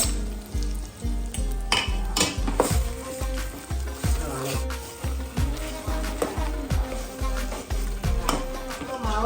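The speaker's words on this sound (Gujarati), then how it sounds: "હવે આપણે લાસ્ટમાં નાખીશું બટાકાનો સુંદો હવે કમ્પ્લેટ હલાઈ દેશું" Mashed potato filling for batata vada is stirred in a pan, a soft sizzle underneath rhythmic spoon scrapes and knocks against the metal, about two per second, fairly close and steady.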